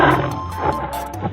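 A tiger gives a loud, close roar, a rough, growling blast that rises and falls over a second or so, with no voices.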